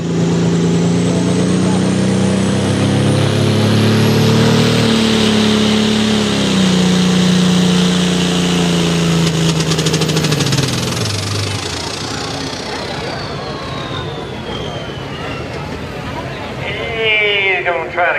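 A race car engine at a spring nationals event idles with a loud, rough rumble and then tapers off. The sound is close and fills the whole stretch. A faint voice can be heard under it near the end.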